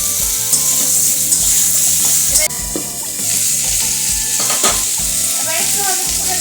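Mango pieces drop into hot oil with panch phoron for a sweet, sour and spicy mango chutney, setting off a loud, steady sizzle with stirring scrapes throughout.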